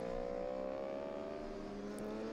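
Kawasaki and Ducati Panigale racing motorcycles on a track at Nogaro, a faint continuous high engine whine rising steadily in pitch as they accelerate in the distance.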